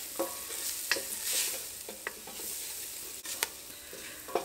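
A tablespoon of all-purpose flour cooks in a pan while a utensil stirs and taps it in sporadic scrapes and clicks, over a soft, low sizzle.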